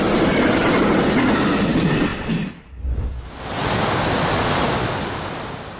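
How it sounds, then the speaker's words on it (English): Amtrak 19 passenger train rushing past at 79 mph, a loud roaring whoosh with rail clatter, a brief dip as it passes, then rolling wagon noise continuing close by. "Coming in hot at 79 miles per hour, Amtrak 19"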